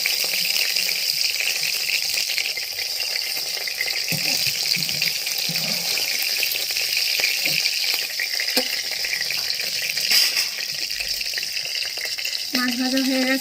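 Hilsa fish sizzles steadily in hot oil in a home kitchen, a continuous close hiss with occasional crackles and utensil clinks.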